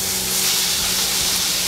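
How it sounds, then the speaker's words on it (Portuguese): Shrimp fry in a small amount of olive oil in a hot pan, giving a loud, steady sizzling hiss that stays constant from start to end with no talking. "E vou colocar o camarão para fritar."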